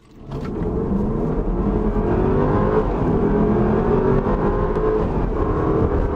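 A Range Rover SUV in dynamic driving mode accelerates hard from a standstill, its engine note building quickly and holding a loud, rising roar for several seconds before cutting off.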